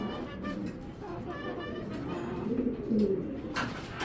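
A racing pigeon, an inbred female, cooing in low, rolling phrases close by, while someone talks over the calls.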